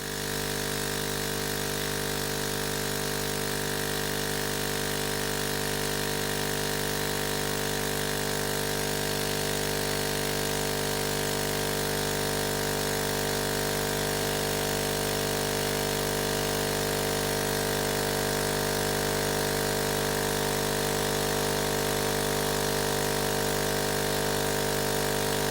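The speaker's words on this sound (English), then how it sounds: "So most of the noise is coming from the middle of the pump" A Hailea ACO 318 air assist pump for a laser cutter runs continuously, giving a steady, even mechanical hum and buzz with fixed tonal lines and no pauses, heard alone.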